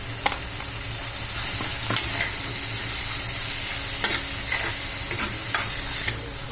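Tomatoes and ginger garlic paste are sautéed in a pan, with a constant close sizzle broken by several sharp scraping stir strokes at irregular intervals and no voices.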